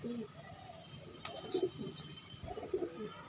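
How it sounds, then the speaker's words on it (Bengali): Pigeons kept at a house in Bagnan, Howrah, coo close by in soft, low, throaty phrases that repeat in short bursts, with faint background noise between calls. "আর একটা মাদা পায়রা নিয়ে নিয়েছি সুমন ভাইয়ের"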